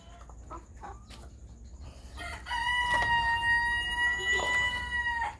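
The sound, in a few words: Brahma chickens and hens clucking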